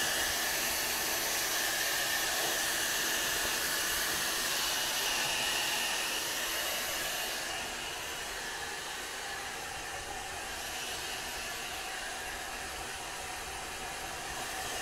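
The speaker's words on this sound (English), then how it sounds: "Do you guys hear this loud freaking blow dryer?" A loud hair dryer blows continuously nearby, a dense hissing whoosh that drops a little in level partway through and then holds steady, with no voices.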